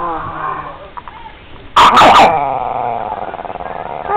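A dog gives a short burst of loud, close barks mid-clip between low growls and whimpers, while someone teases it with a bone treat.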